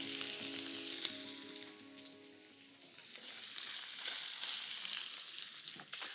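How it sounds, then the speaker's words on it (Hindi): Onions frying in ghee in a home kitchen pan, cooked gently until soft, give a steady, close, bright sizzle and crackle that swells and eases, with a few faint utensil stirs and no talking. "प्याज को बराबर से घी में भूनना है, नरम होने तक, ब्राउन नहीं करना।"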